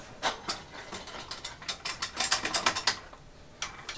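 A 2018 Giant Trance mountain bike is clamped into a repair stand with a rapid series of close, sharp ratcheting clicks, coming in bursts and quickening in the middle before trailing off.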